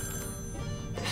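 A phone rings in the video game Poppy Playtime, a short burst of an electronic bell-like ring with a steady tonal buzz, fairly loud and heard alone.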